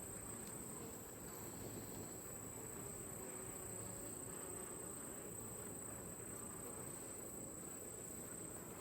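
Honey bees humming in a dense, even drone around an open hive, quiet and unbroken with a faint steady high whine above it.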